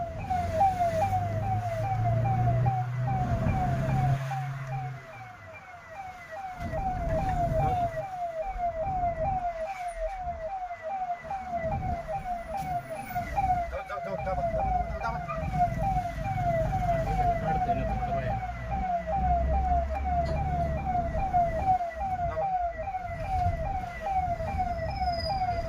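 A loud emergency vehicle siren wails continuously in a rapid rising-and-falling pattern over road traffic and engine rumble, with brief muffled voices in the background.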